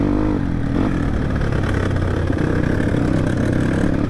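A motorbike engine drones steadily on a slippery off-road trail in South Lalitpur, near and fairly loud, with a sustained mid-pitched hum and slight revving.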